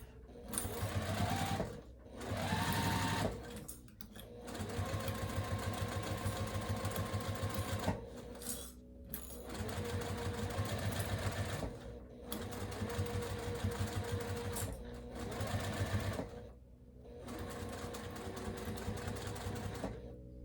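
A sewing machine stitches in long continuous runs with a steady mechanical whir, pausing briefly several times before starting again, close and loud with no talk.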